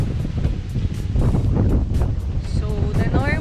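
Strong amihan-season wind buffets the microphone on a Siargao beach, a constant rough low rumble with surf in the background. A voice is heard briefly near the end.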